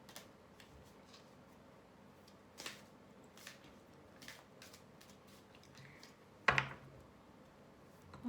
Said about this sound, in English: I'm going to give this one more good shuffle